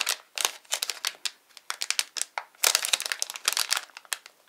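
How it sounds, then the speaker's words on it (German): Close, crisp crinkling and rustling of anti-static ESD packaging as laptop RAM adapters are unpacked, in rapid irregular bursts with brief pauses and a denser flurry toward the end. "packen die Adapter aus der ESD-Verpackung"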